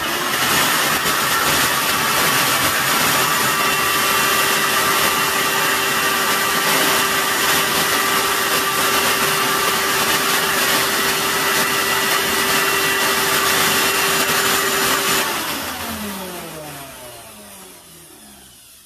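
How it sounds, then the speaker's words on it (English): A thermoforming vacuum former's pump runs alone as a loud, steady whir with a constant hum for about fifteen seconds, then shuts off and winds down to quiet. "Vacuum on."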